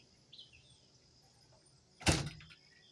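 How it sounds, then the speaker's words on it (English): A door opens once with a sudden sliding scrape, loud and brief against a quiet room. "Gray, I ain't gonna keep opening this door for you."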